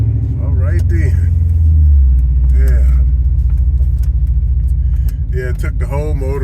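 A 1999 Dodge Ram R/T pickup drives along a street, its engine giving a loud, low rumble that swells briefly as it accelerates, with people talking over it inside the cab.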